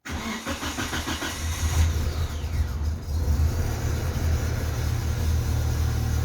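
A Geely MK car engine, just back together after a cylinder head repair, cranks and starts, then settles into a steady idle with a deep, even rumble heard close with no talking.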